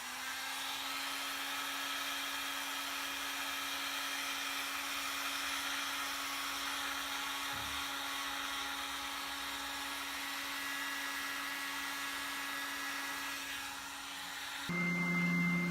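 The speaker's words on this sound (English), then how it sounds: "Now what we're going to do is use a heat gun, take these stickers off and start sanding." Heat gun blowing steadily at close range to lift stickers off a fidget spinner, a constant whining hiss with a strong steady hum that shifts tone near the end, with no speech.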